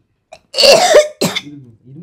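A couple of harsh, close coughs followed by a short throat-clearing rasp, loud and abrupt against an otherwise quiet background.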